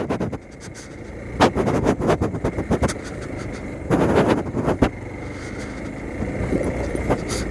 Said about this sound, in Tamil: ஆல்ரெடி புது ஃபோர்க்கு டங்கு டங்குன்னு சவுண்டு கேட்க ஆரம்பிச்சிருச்சு